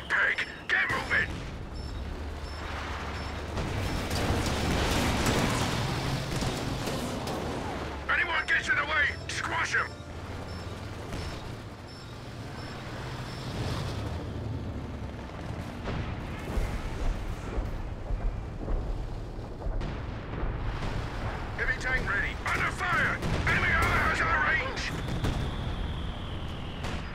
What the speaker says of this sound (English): Under fire from enemy tank!